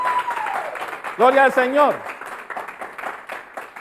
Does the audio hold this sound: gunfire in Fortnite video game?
no